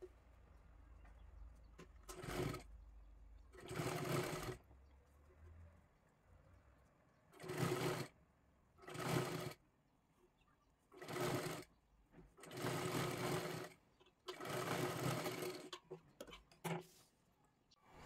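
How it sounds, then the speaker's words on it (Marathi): A sewing machine stitches a sleeve right along the cloth's edge in several separate bursts of rapid, loud whirring, with short quiet pauses between runs. "इथे व्यवस्थित कडेपर्यंत शिलाई मारून घ्यायची आहे."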